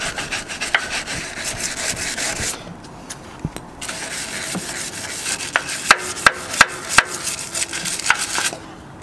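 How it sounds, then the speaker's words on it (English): A brush scrubbing a greasy, grimy lawn mower coated in Purple Power degreaser, steady close rasping strokes with a brief pause, then a run of quicker sharp brushing scrapes. "Here, we'll go ahead and hit it with a brush."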